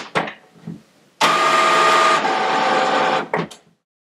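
An Epson EcoTank ET4550 ink-tank printer starts up with a few short clicks, then a sustained mechanical whir for about two seconds and a brief final clunk, close and fairly loud.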